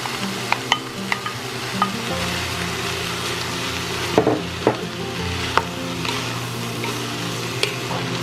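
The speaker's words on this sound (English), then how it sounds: "I'll mix this together." A pot of Rock Hole Slum stew with a pound of potatoes just added is stirred, a steady close scraping and sloshing with a low simmering sizzle underneath and a few sharp clinks of the spoon against the pot.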